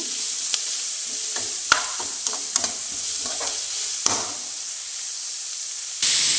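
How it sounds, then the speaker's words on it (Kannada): Curry leaves fry in a pan until browned for bassaru, giving a steady hiss of sizzling oil with scattered crackles and light stirring scrapes. The sizzle jumps louder near the end. "ಅದು ಕೆಂಪಗಾಗೋವರೆಗೂ ಫ್ರೈ ಮಾಡ್ಕೋಬೇಕು"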